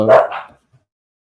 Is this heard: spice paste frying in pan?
no